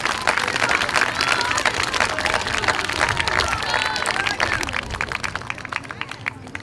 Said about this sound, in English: let's give your parents and grandparents and everyone else a round of applause